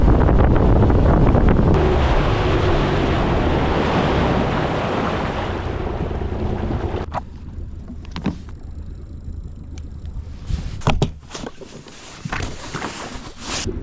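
A fishing boat's outboard motor running on a lake: a loud, steady rush of engine and water noise for about seven seconds, then it cuts back to quieter wind buffeting and light splashes.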